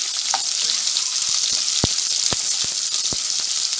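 Onion and large village pepper sizzling steadily in a pan while being sautéed, a continuous bright frying hiss broken by a few sharp clicks and knocks of a utensil stirring, with no talk.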